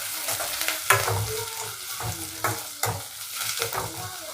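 Onions and curry leaves frying in hot oil with popped mustard seeds, sizzling steadily while a utensil stirs and scrapes the pan in repeated strokes, close and moderately loud with no talking.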